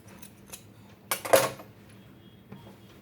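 Scissors cut through a Paithani silk blouse border, one short crisp snip burst standing out clearly against a quiet room, with a few faint clicks before and after.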